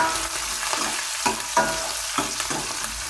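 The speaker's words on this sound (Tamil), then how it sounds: "அப்புறம் கருவேப்பிலை, வெங்காயம், பூண்டு, நல்லா வதக்கிக்கணுங்க." Curry leaves, onion and garlic sauté in a pan for a shark fish curry, with a steady close sizzle broken by several rhythmic scraping stirs of the spoon and no voices.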